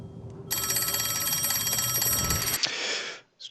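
Old-fashioned telephone bell ringing loudly and steadily for about two seconds, a dense metallic trill, then cutting off with a brief ringing tail before quiet.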